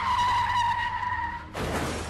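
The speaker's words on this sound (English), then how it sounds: "Then one of the tires came flying off and rolled at high speeds downhill while the car spun out" A car that has just lost a tire skids and spins out at speed downhill, a loud sustained tire squeal that cuts off into a rougher, broadband scraping rush.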